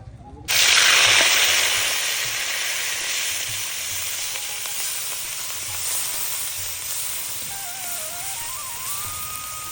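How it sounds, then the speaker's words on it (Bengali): Onions and chilies hit hot mustard oil in a pan, a loud sizzling hiss that bursts in suddenly and settles into steady frying, with faint clinks of stirring beneath. "এই যে এখানে কিন্তু এখন পেঁয়াজ মরিচ একদম ভেজে নেওয়া হচ্ছে"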